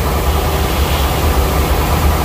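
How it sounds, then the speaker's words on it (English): Large race engine idling steadily up close, a dense continuous low rumble with even texture throughout and no voices over it. "Idling about 100 RPM higher than where I set it earlier."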